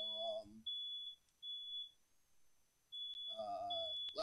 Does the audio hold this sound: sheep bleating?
no